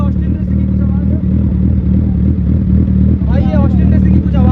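Loud, steady engine roar from a Suzuki Hayabusa motorcycle fitted with an Austin Racing exhaust, with rising revs near the end; people's voices are heard over it.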